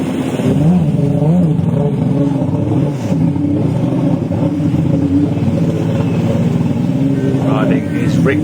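A Richter jet ski engine revs loudly while riding on a lake, its pitch rising and falling with throttle changes, close and continuous, with a voice talking over it.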